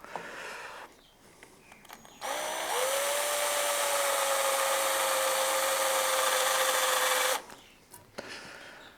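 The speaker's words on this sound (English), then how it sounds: "so I'm just going to drill" A power drill whirs steadily at high speed for about five seconds, drilling a motorcycle part, starting abruptly and cutting off, with quieter handling noise before and after.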